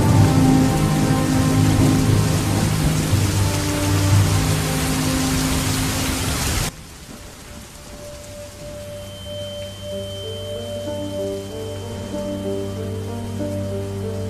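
Heavy rain pouring down, a dense hiss of drops on surfaces that is loud for the first several seconds, then drops abruptly to a quieter steady patter under a sustained tonal hum.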